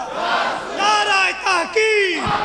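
A large crowd at a religious lecture loudly chants the Nara-e-Haidari slogan in response, several rising shouted calls of many voices together, full and echoing, with a speaker's voice briefly preceding them.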